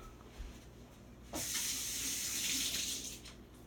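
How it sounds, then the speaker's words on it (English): Tap water suddenly gushes on and keeps running steadily as hands are washed under it at a kitchen sink during curry chicken preparation, following a second of quiet room tone. "Okay, wash my hands again."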